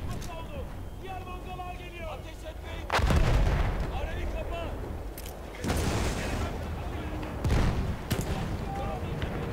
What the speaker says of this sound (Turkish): her yer patladı tam güzel